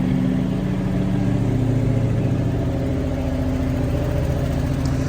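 Engine of a 1971 Dodge Challenger running steadily nearby, a loud continuous low rumble with a constant hum and no clear rev changes, no talk.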